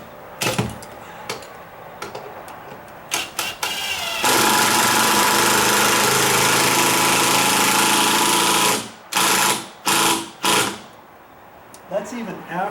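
A drill drives a screw into a sagging exterior door in a long loud ratcheting burst, framed by short clicks and knocks and a few quick pulses of the driver afterward.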